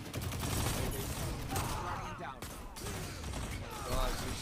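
Dense gunfire in a Destiny 2 Trials of the Nine match, sustained rapid shots and impacts that keep the sound loud and crowded throughout, with a voice talking over it.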